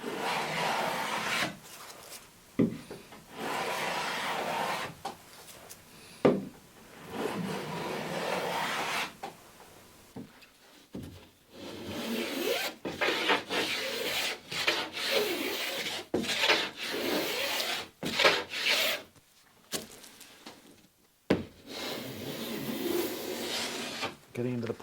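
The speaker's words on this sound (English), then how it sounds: "This cedar is planing beautifully." A hand plane shaves a cedar garboard plank on a damaged lapstrake small boat, producing a steady series of long, close rasping strokes separated by brief pauses.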